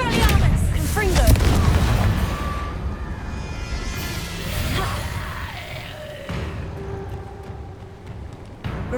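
A Confringo spell explosion in the video game Hogwarts Legacy, a loud booming blast near the start that rumbles and fades amid combat effects, with someone shouting spell words over it.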